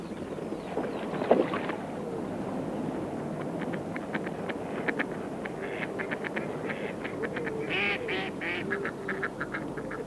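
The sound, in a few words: ducks quacking on water at a decoy pipe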